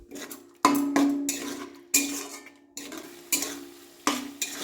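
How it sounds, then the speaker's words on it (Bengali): Spoon scraping and stirring spice paste with red chili powder and turmeric as it fries in oil in a metal pot for mutton curry, a steady rhythm of sharp scrapes repeating about once a second, close and loud. "মশলাটা দেওয়ার পরে দিয়ে দিচ্ছি রেড চিলি পাউডার, হলুদ গুঁড়ো দিয়ে ভালো করে মশলাটাকে কষিয়ে নেব"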